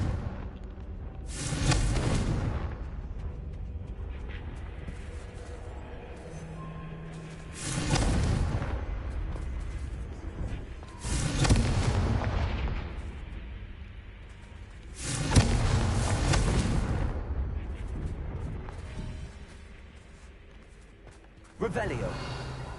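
In the video game Hogwarts Legacy, the Confringo explosion spell sets off four heavy booming blasts spaced a few seconds apart, each one decaying into a rumble, while a player talks between them.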